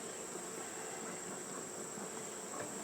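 Honeybees on top of a hive, with smoke drifting over them, give off a faint, steady, unbroken buzzing drone.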